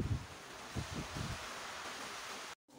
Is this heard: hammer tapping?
no